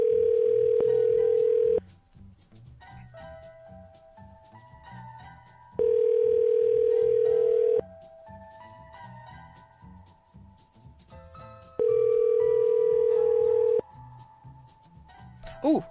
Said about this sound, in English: I'm calling this person.